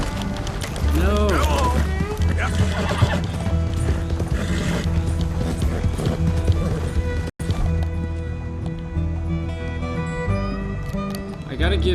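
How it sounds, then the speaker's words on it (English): Horse hooves clip-clopping at a gallop with neighs and whinnies in Red Dead Redemption 2, set among game mechanisms and music, with a brief dropout mid-way and someone talking at times. "Come on, this horse"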